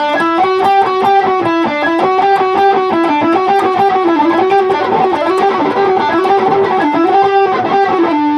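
Distorted electric guitar picks a rapid, even run of single notes in a repeating pattern, loud and continuous with no talking.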